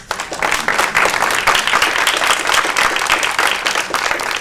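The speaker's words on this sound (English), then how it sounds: "Let's give another round of applause." A book talk audience at a law school library bursts into steady, dense applause that holds at full strength throughout, close and loud with no gaps.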